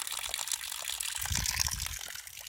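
Water gushes from a hose in a steady rush, splashing continuously at close range with a brief swell in the low end midway.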